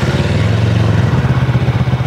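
An FKM Falcon X400 motorcycle with a 180-degree crankshaft idles close up, a loud, even, throbbing engine note with a lawnmower-like rhythmic pulse.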